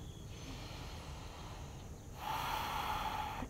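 A long, deep breath during a yoga calf stretch, a steady, close airy inhale that swells into a louder, fuller exhale partway through, with no speech.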